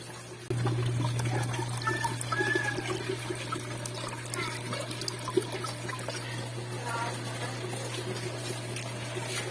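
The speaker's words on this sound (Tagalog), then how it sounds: "lagyan natin ng tubig" Water pours steadily into a goldfish breeding tub, starting abruptly near the beginning and continuing as a constant trickling splash, with a low steady hum underneath.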